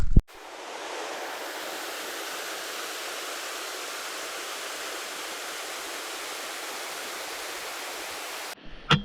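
Steady rushing creek water in a deep canyon trench, a continuous broadband flow heard close and alone from start to finish with no voices.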